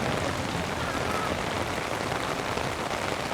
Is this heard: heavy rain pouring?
yes